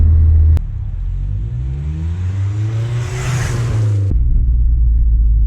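A Vauxhall Astra VXR hatchback accelerates hard on an open road, its engine rising in a loud, close, climbing drone through a gear before easing back to a steady cruise rumble.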